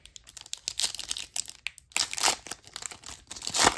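Football trading card packs are ripped open up close, making loud, continuous crinkling and tearing of foil wrappers in rapid, uneven bursts with no voices.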